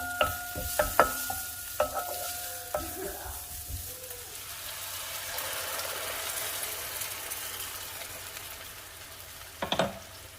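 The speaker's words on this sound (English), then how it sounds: "it smells great when the onion hits the preheated pan" Sizzling and crackling as onion fries in a preheated pan for chile rellenos, with a few sharp clinks and stirring knocks near the start and again near the end; no voices.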